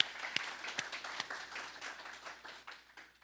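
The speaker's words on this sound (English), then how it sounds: "So let's give them a round of applause" Audience applause at a forestry workshop, a steady wash of many hands clapping with a few sharper nearby claps, fading gradually toward the end.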